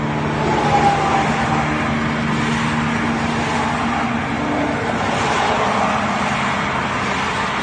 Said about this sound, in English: Just listen to the traffic.